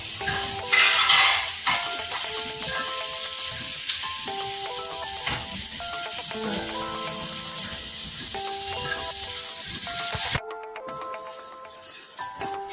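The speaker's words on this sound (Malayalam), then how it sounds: "ഇപ്പോൾ ചുവന്നുള്ളി, ഇഞ്ചി, വെളുത്തുള്ളിയൊക്കെ നന്നായിട്ട് വഴണ്ടിട്ടുണ്ട്" Shallots, ginger and garlic sautéing in a pan for a squid thoran, a steady close sizzle and hiss with occasional utensil scrapes and clinks against the pan, briefly cutting out near the end.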